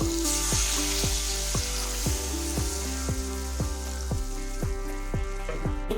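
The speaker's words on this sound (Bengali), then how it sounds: "এখন আমরা কড়াইয়ের উপরে যোগ করে দেবো পরিমাণ মতো জল" Water poured into a hot karahi sets off a loud, steady sizzle and bubbling that holds without a break, with faint stirring noises underneath.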